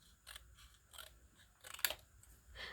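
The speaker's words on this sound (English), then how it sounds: "I think I'm going to cut this." Scissors snip through paper during a craft session, several faint, quick crisp cuts spaced irregularly, the last few louder and closer, with no talking.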